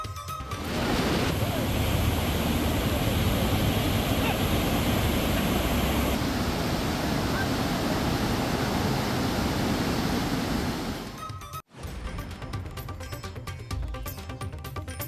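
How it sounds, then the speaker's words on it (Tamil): Silver Falls in Kodaikanal roars after a flash flood from heavy rain, a loud dense continuous rush of falling water filling the scene, broken by a sharp cut before the torrent resumes. "வெள்ளி அருவியில் ஏற்பட்ட திடீர் வெள்ளத்தால் ஆர்ப்பரித்து கொட்டிய தண்ணீர்"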